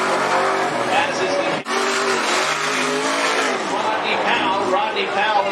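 Race cars lap a dirt speedway in a limited sprint and modified event at Cottage Grove Speedway, engines roaring steadily throughout, with a brief dip near the start, under continuous announcer commentary.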